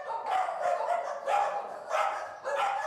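Dogs at a puppy breeding farm bark repeatedly in loud, close bursts, with a few yips and whimpers between the barks.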